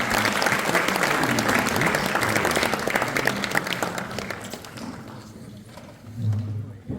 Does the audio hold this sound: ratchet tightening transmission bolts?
no